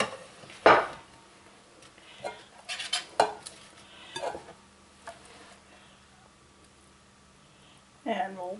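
Pennsylvania Dutch lettuce salad is stirred and tossed in a bowl, with scattered scraping and clattering strokes of a utensil and short gaps between them.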